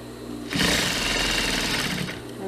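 Sewing machine stitching through a stuffed pillowcase, a loud steady mechanical whirring burst lasting about a second and a half before stopping, with no talk.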